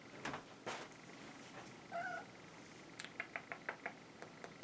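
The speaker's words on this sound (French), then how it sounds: "Il faut qu'elle miaule pour sortir de maintenant, elle." An indoor cat gives a faint, brief meow amid quiet room noise, with a few soft knocks and clicks before and after.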